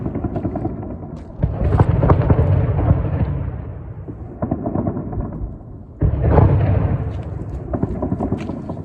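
Heavy, rumbling booms of intense artillery fire in Bakhmut come in repeated loud bursts, each rolling on with crackling impacts and then fading into a low roar.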